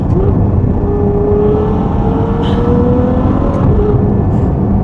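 A Ferrari F12 Berlinetta with a 6.3-liter naturally aspirated V12 runs with a loud, continuous close engine drone and a gently rising pitch throughout.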